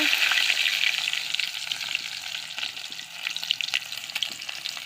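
Chopped onions hit hot oil and sizzle steadily, a close, continuous frying hiss with light stirring clicks scattered through it.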